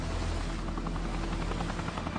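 An air ambulance rescue helicopter hovers over a sinking boat at sea, its rotor a steady, loud, throbbing thrum with rapid blade pulses that carries on without a break.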